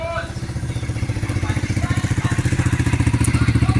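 A junk scrapper's motorcycle chugs close by in a Philippine neighborhood, its engine putting out a steady rapid thumping that grows louder and more even as it rolls past.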